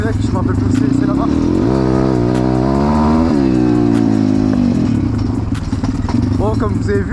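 A Bastos MXF 140cc dirt bike engine revs up and down in rising and falling sweeps, close and loud, with clattering mechanical noise and brief background voices.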